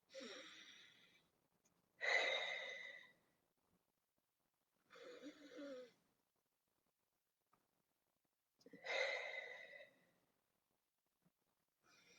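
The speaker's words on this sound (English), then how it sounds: "start taking some deep breaths" Slow, deep breaths during a quiet relaxation exercise, four long airy inhales and exhales separated by near-silent pauses, close and soft.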